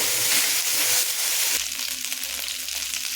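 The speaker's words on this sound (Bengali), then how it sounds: "এটাকে আমি ভালো করে ভেজে নেব আদাটাকে" Ginger paste fries in a pan for a vegetarian khichuri, giving a loud, steady sizzle with some stirring scrapes, heard close up and alone.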